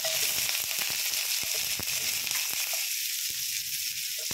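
Green chillies and onion fry in a spoonful of oil in a pan with a steady close sizzle, broken by scattered clicks and small pops, then settling into a quieter hiss.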